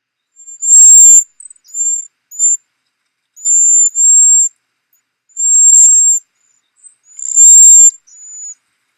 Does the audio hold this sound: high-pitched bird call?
yes